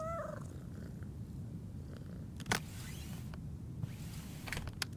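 A cat purring in a bookshop, a soft low rumbling purr running steadily and close throughout, with a brief faint chirp at the start and a few small knocks.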